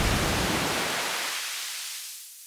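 Pink noise runs through a high-pass filter whose cutoff climbs steadily, so the low rumble drains away and only a thinner, hissy upper band remains by the end; steady and fairly loud, no voices.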